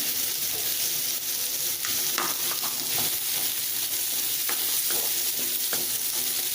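Black chickpea sundal tempering in a pan with turmeric and a light pinch of garam masala, giving a steady close sizzle and fry with scattered stirring scrapes throughout, and no voices.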